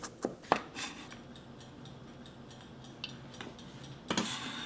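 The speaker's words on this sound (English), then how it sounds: "Let's do garlic cloves. Chop, chop, chop, chop, chop," A knife chops garlic cloves on a cutting board in a home kitchen, a few sharp, separate knocks spread over a quiet background, with a small cluster of hits near the end.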